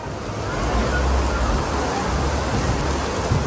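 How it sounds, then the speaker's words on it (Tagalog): Heavy rain pours down steadily, a dense continuous hiss drumming on surfaces with a low rumble underneath, no voices. "We're in the middle of a downpour. Yeah, it's raining a lot. Very heavy rain."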